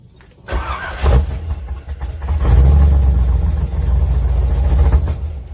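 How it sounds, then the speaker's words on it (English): A car engine cold-starts: a brief crank and catch near the half-second mark, then a loud, close rumble that surges and settles into a high, steady fast idle, with no talking. "That was the second cold start that not a lot of you guys actually ever seen"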